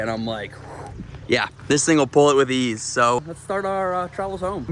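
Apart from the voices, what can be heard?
No everyday noise stands out behind the speech.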